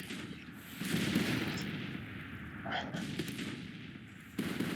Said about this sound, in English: Artillery looks like it's firing clear over their heads right now.